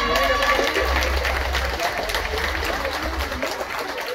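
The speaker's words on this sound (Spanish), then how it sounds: "fuerte el aplauso" Audience applause at the coronation of the patron saint festival queen for San Juan Bautista in San Juan Mixtepec, a steady broadband wash of clapping that holds for the whole stretch, with crowd noise mixed in.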